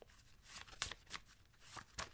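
Small tarot cards being shuffled by hand, heard as faint, quick papery riffles and slaps in short bursts, with no talking.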